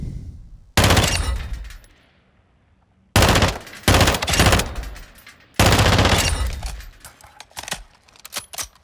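FR Avancer rifle firing in a video game, with three long bursts of rapid automatic fire, loud and close, separated by short pauses, the last burst breaking into uneven shots.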